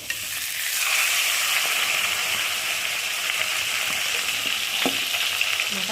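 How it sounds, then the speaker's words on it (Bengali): Silver carp head and tail pieces sizzle in hot oil after being dropped in, a steady, loud frying hiss that swells in within the first second and holds, with a few faint spatters and no talking. "আর এখন আমি তেলটা গরম হয়ে গেছে আর একে একে মাছগুলোকে দিয়ে ভেজে নেব"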